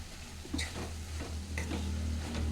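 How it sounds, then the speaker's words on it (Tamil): Curry leaves sizzling in hot oil in a Tamil home stir-fry: a steady close frying crackle with a few sharp ticks and stirring scrapes, no voices. "கருவேப்பிலை சேர்க்குறோம்"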